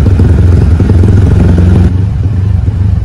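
A stock automatic scooter engine with modified ignition timing idles loud and close, its rapid, pulsing chop resembling a helicopter and holding steady throughout.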